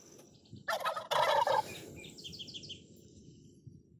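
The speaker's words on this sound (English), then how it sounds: "Wow, here's some wild turkeys." Wild turkeys gobble in a couple of loud bursts outdoors at Fort Ord, with fainter bird chirps afterward over a quiet outdoor hum.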